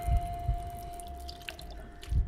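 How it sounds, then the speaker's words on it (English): Water dripping and trickling as a container fills in a video game, a few soft low plops with a steady faint tone behind, no talking. "Fill it up with water."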